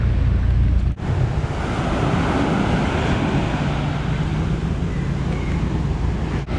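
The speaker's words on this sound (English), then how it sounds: "I guess the waves are a little bit strong" Strong ocean waves break and wash continuously onto a beach in Penang, Malaysia, a loud, dense roar mixed with gusting wind buffeting the microphone.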